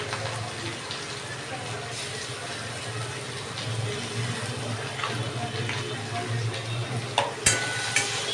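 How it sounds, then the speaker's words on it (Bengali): Steady sizzling of potatoes frying in a pan, with a few stirring clinks near the end and no one talking. "আলুগুলো ভালো মতো ভাজা হয়ে গেছে"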